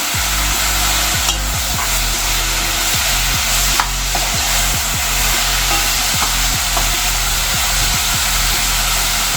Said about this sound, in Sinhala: මේ විදිහට කිම්චි එක ටෙම්පරාදුවක් කරගත්තා.